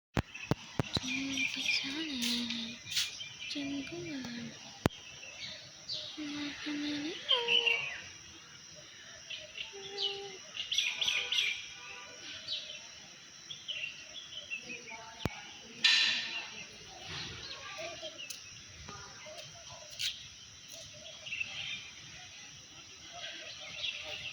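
Small birds chirp around bread left out for them at a home. Scattered high tweets come in short bursts over about twenty seconds, moderately close, with voices talking intermittently in the background.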